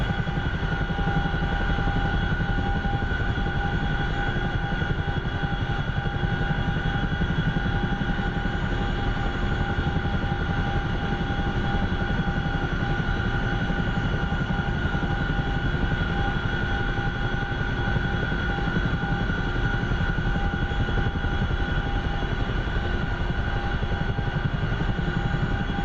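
A jet aircraft in the DCS flight simulator game descends slowly, its engine a loud, unbroken whine and rumble with steady tonal hum holding unchanged throughout, no voices.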